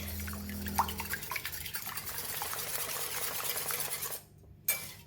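Eggs beaten by hand in a bowl with a little salt, quick soft clinking and sloshing strokes repeating at a steady pace, fairly quiet, ending with a short pause and one final tap.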